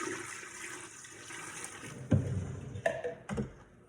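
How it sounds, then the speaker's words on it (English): Cold water pours and splashes into a cooking pot in a few short gushes, with a soft trickle between them, close by and fairly quiet. "we're going to cover that with our cold water."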